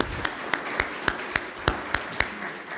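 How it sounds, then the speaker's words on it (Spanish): Sparse, evenly spaced hand claps at an international seminar, about nine sharp claps in a steady rhythm over a hollow, reverberant room tone. "¿Se escuchan los aplausos por allá?"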